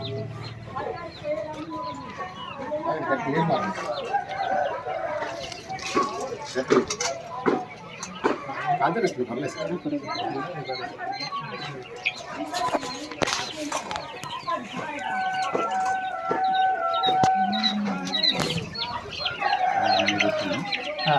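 Quails call inside a quail farm, a dense overlapping chorus of chirps and clucks from many birds that continues throughout, close and fairly loud.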